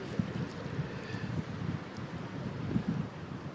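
Steady broadband wind rushes continuously outdoors, with low rumbling gusts swelling and easing throughout, like wind buffeting across open ground or water.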